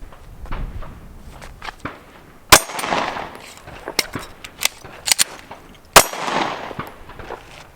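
Pistol shots ring out during a concealed-carry reload drill with a sidecar holster: two sharp, loud reports a few seconds apart, with clattering handling noises, magazine clicks and footsteps between them.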